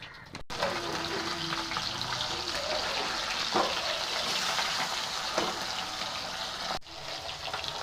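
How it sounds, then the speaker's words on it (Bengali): Pomfret fish frying in a pan with a steady, close sizzle that holds from start to finish, without talk and with a few short clinks partway through. "দেখো মাছটা ভাজতে বসিয়েছি এখন।"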